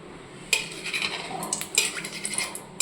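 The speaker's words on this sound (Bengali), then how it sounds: "আর দিয়ে দিচ্ছি এক চামচ ঘি" A spoonful of ghee goes into a hot wok already holding white oil, giving bright metallic clinks and light scraping taps in a quick irregular run, close and fairly quiet.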